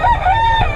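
A stag rooster, a young gamecock, crows once in a single loud, close cock-a-doodle-doo lasting under a second, with a rising and held harmonic call and no talk over it.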